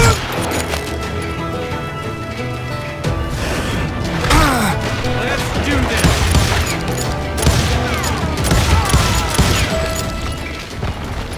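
Rapid gunfire from enemies in the Western shooter Call of Juarez Gunslinger, with repeated shots, impacts and clatter layered over a dense, busy game mix for the whole stretch.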